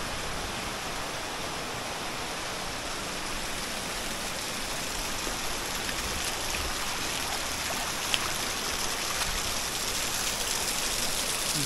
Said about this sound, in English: There's a mini waterfall.